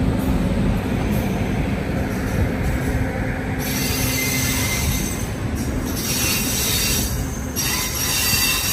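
A train pulls into platform 5 at Gudur Junction with a loud, sustained squeal of wheels on rails, rumbling and grinding close by as it slows.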